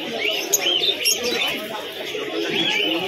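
Pigeons cooing at the Birnagar pigeon market, several soft throaty coos and chirps overlapping over a busy, continuous background murmur.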